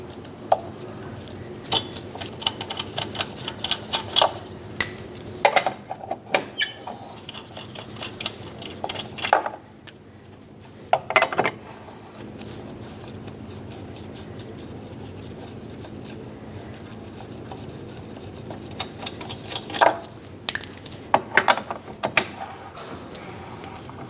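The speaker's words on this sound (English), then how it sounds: "Take this back off so we can finish removing our lug nuts." Lug nuts coming off a 2006-2011 Honda Civic wheel by hand give repeated ratcheting clicks and metallic turning, with scattered louder clanks over a steady low background hum.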